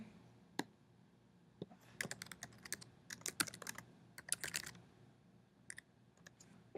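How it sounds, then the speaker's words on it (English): A name is typed on a computer keyboard: sparse, close key clicks that come in short clusters and isolated taps over a quiet background, with no talking. "type your name"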